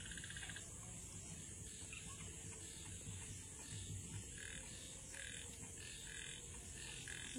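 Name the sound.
frogs croaking in the rainy season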